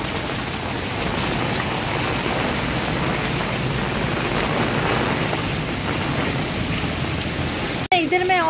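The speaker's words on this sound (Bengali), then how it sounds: "আল্লাহ কি বৃষ্টি, বন্যা বন্যা বন্যা, আল্লাহ রহম করো।" Heavy rain pours down steadily and loudly during a flood, a dense continuous roar of drops hitting surfaces close by, broken by a brief dropout near the end.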